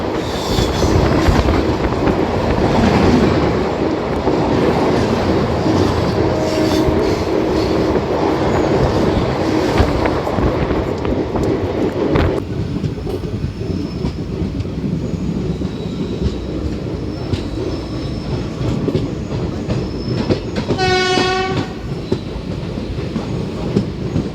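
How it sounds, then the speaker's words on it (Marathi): The Gondia–Kolhapur Maharashtra Express rumbles past at a railway crossing, a loud, close, continuous roar of wheels and rattling coaches with rhythmic clickety-clack, then a brief rising squeal of wheels near the end. "आता महाराष्ट्र एक्सप्रेससोबतचं क्रॉसिंग बघूया"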